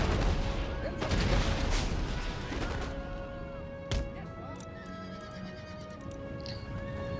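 The 95th Rifles fire volleys of musketry in the video game Empire: Total War, with dense rattling gunfire at the start that then thins into sporadic distant shots, one sharp close crack, horses whinnying nearby and cavalry hooves.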